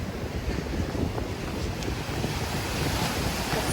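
Sea waves wash onto the shore at a harbour jetty while strong wind buffets the microphone, producing a dense, continuous roar of surf and gusts with no talking.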